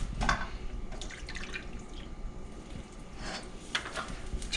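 Milk pours steadily into flour for a cauliflower gratin sauce, giving a soft, continuous liquid splash with faint dripping at close range.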